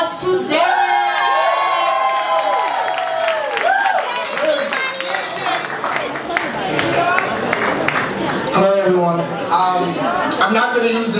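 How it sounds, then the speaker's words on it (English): Audience at a live performance night cheering and whooping for a spoken word performer, with shouts and scattered applause through the room and voices talking over the crowd noise at the end. "let's give a strong round of applause to Derek"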